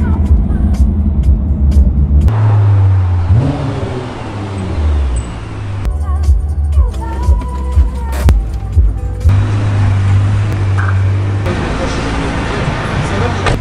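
An 800 hp Nissan GT-R engine rumbles and revs on the road, loud and close from inside the car, rising and falling with gear changes while people talk over it.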